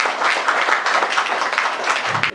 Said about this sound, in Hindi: मैं चाहती हूँ कि आप सब तालियों के साथ उनका स्वागत करें